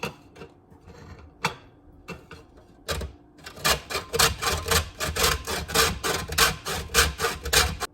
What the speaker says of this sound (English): now I can just grate it over foods